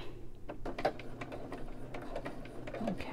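Sewing machine stitching a coiled rope bowl, a steady mechanical whir with soft repeated ticking of the needle running continuously at moderate level.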